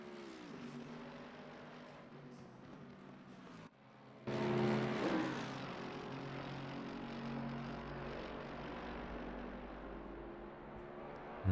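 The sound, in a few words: race car engine noises from a racing video game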